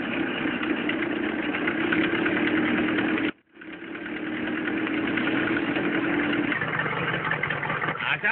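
A car engine idles steadily and fairly close, a continuous low rumble that cuts out briefly near the middle and then resumes, with voices talking over it.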